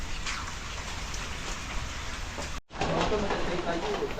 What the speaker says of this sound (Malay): Tunggu sementara tunggu hujan berhenti.